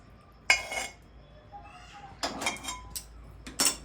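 Rapid metal scraping and clinking of a spoon stirring adadiya mixture in a pan, coming in a few brisk bursts with quiet gaps between them, close and moderately loud.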